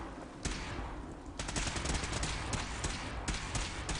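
Gunfire in Fallout 4, played in survival mode with the Horizon mod: a scattered burst of shots fired at a distance, with one sharp crack near the start and several more shots that follow over a steady background of combat noise.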